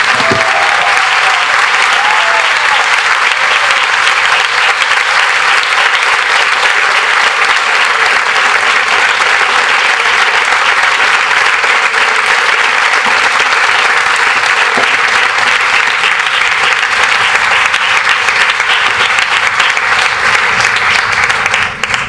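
A large crowd applauds steadily inside a big tent at a community panel event, the dense clapping loud and continuous throughout with no break.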